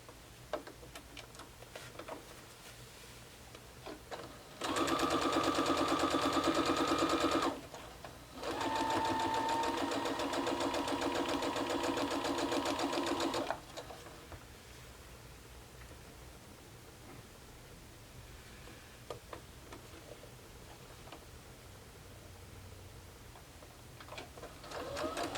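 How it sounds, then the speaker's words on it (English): A sewing machine stitches along marked lines in two bursts, a rapid steady whirring hum of about three seconds and then about five seconds, separated by a short pause, fairly close against quiet room noise. "And now we're going to sew on those lines."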